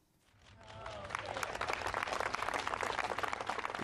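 Crowd applause at the outdoor unveiling of a Ronnie Barker statue in Aylesbury, swelling from quiet into sustained, dense clapping from many hands.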